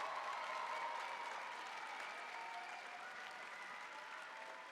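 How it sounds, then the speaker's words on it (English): Audience applause fills the hall at a university Pilipinx cultural night show, a dense, steady clapping from a large crowd that holds for several seconds and eases slightly toward the end. "they believe they deserve all the applause that this crowd can offer"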